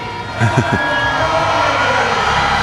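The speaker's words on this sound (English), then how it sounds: "And you can hear the crowd appreciation." Stadium crowd at an athletics 400m final cheering and roaring steadily, a loud continuous wash of voices with brief rising whoops near the start, no clear speech on top.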